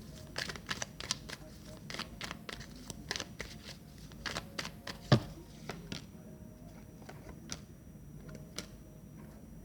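Tarot cards are handled and drawn, giving soft, scattered taps and flicks of card stock, close but faint, with a quieter stretch toward the end.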